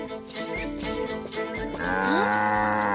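A cartoon cow moos, a loud drawn-out low call that rises and holds near the end, set against light background music.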